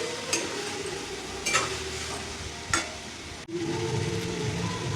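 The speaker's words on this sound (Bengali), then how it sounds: "ডালিয়াটা দিয়ে এবার ভালো করে আমি নাড়াচাড়া করে মিশিয়ে নেব।" Vegetable dalia being stirred in a pan over a gas flame, with a steady sizzle and a few sharp scrapes of the spoon against the pan, close up and without speech.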